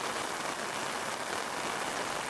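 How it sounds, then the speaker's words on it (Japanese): Sudden heavy rain pours down in a dense, steady hiss, close and unbroken, with no voices over it. "またいきなり大雨になりました。"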